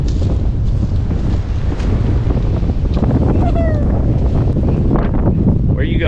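Strong wind roars steadily and loudly across an outdoor yard after a big tree has blown down, buffeting the microphone throughout with constant broadband rush and gusts.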